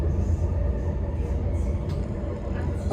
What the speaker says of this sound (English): Train ride takes me to the central station in 15 minutes